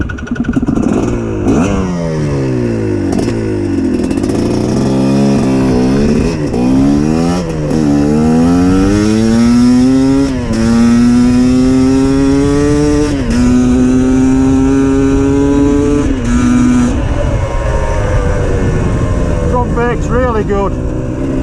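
A GPX TSE 250R motorcycle revs and climbs through the gears while being ridden, engine pitch rising and dropping repeatedly, loud and close with wind roar, a rider talking over it.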